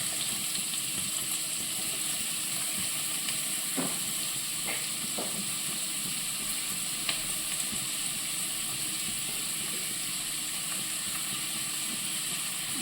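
Chopped onion frying in coconut oil, heard as a steady, even hiss of sizzling throughout, with a few faint clicks from utensils, close and moderately quiet, and no talk.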